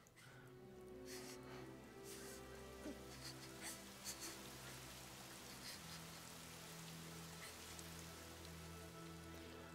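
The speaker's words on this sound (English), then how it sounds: "Where did that rain even come from?" Steady, soft rain falls in the Fire Emblem Three Houses video game, a faint continuous patter with a low background tone and no voices.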